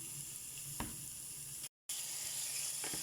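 Chicken pieces frying in a pan with onions and garlic give a steady, close sizzle, with a couple of brief stirring clatters and a short drop to silence partway through.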